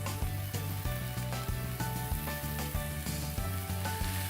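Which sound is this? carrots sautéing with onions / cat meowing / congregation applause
carrots sautéing with onions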